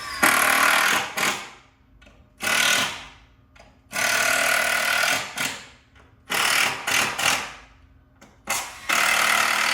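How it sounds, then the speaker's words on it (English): A power drill drives screws into a cedar picnic table in loud bursts of whirring that start and stop repeatedly, with short quiet gaps between the runs, close by and without speech. "Screwing in the screws on the other side."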